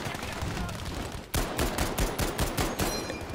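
A rapid burst of M1 rifle shots fires in a video game, with sharp, loud cracks starting abruptly and repeating in a quick, uneven rhythm over a noisy background.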